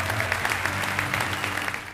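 Audience applauding steadily at the closing ceremony of the 25th Gérardmer film festival as a jury prize trophy is handed over, a dense continuous wash of clapping filling the hall.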